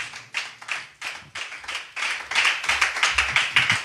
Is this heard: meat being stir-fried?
no